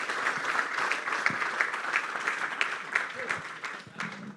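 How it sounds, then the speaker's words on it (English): Audience applause at a basketball coaching summit, moderate clapping from a seated crowd spread evenly through the clip, heard at some distance with a faint voice underneath. "Okay, everybody, applause for Daniele Baesi one more time."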